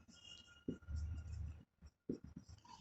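Chalk or marker scratches across a board in a physics classroom during an electrostatics lesson, heard as faint, soft strokes in two bursts split by a short pause.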